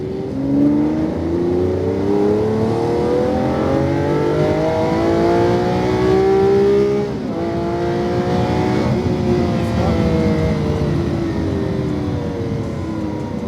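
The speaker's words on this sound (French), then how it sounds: "Et tu accélères pour la ligne droite." A sports car accelerates hard down a race track straight, its engine note climbing steadily in pitch, dropping briefly at a shift, then rising again, loud and close throughout.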